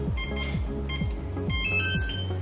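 Electronic beeps from a SpeedRotec keypad immobilizer as a code is entered on a 2016 Toyota RAV4, a steady run of short, evenly spaced tones heard close and alone.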